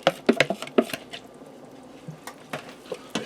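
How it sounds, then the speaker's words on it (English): Broccoli florets are stirred into soup in a pressure cooker, with a cluster of sharp clattering knocks at first, then sparse, softer scrapes and taps close by. "Give that a stir."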